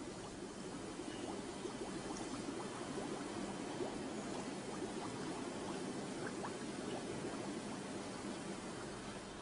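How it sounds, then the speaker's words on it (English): CO2 gas flows through a washing flask to sedate a honey bee queen before artificial insemination, producing a steady, even bubbling and hissing that holds level and continuous, close by with no voices. "To control the dose of gas, it flows through a washing flask."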